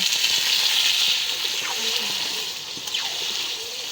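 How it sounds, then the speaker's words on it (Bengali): Water poured into a pan of curry with potato, cauliflower and chickpeas gives a continuous bright rushing splash with a hissing sizzle, steady from start to finish. "তো এখন পানি দিয়ে দিব।"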